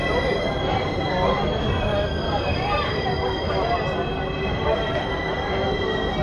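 A Falaknuma Express train departs Balasore station, its wheels squealing over a loud, steady rumble of rolling railcars that holds without pause throughout.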